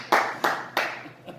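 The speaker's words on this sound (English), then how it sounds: "You wouldn't believe the things that people will clap for you for." Audience clapping at an open mic comedy show, three loud bursts of applause in steady rhythm, each fading quickly, then a fainter fourth clap, nearby with no talking.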